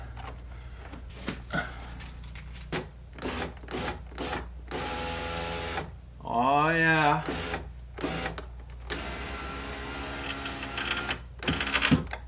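A 2012 Chevrolet Cruze power window regulator with a broken clip is run on test, giving a short grinding, whirring motor burst amid clicks and handling knocks, with someone speaking briefly nearby.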